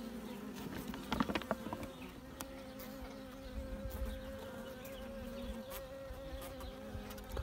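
Several wasps buzz close by around a beehive, a steady droning hum with wingbeats passing near and away, alone without any talking.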